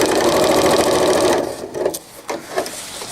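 A sewing machine stitches a diaper cover in a fast, loud run of close stitches that stops after about a second and a half, followed by a few short bursts and clicks.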